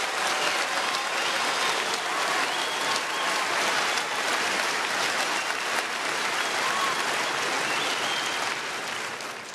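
Sustained applause from a town-hall audience at a Thanksgiving family forum, steady and dense for the whole stretch, signalling support for Supreme Court term limits, tapering slightly at the very end.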